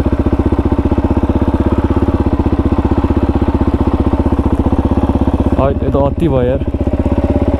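Several dirt bike engines run steadily nearby with a loud, even, throbbing drone, and someone briefly speaks over them partway through.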